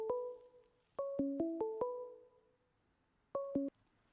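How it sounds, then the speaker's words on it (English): Electronic telephone call tones as a call comes through: short stepped beeps in two bursts separated by a quiet gap, fairly faint and clean, with no voices. "Another phone call."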